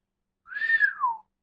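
A person gives one clear whistle of about a second, a tone that holds steady and then slides downward at the close, heard alone against silence.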